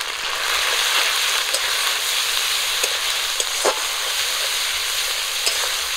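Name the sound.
frying spice pastes and chilli powder in a pan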